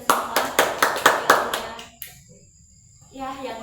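A small group in a counselling session claps hands together in a brisk rhythmic series of about eight sharp claps, then falls quiet before faint talking resumes.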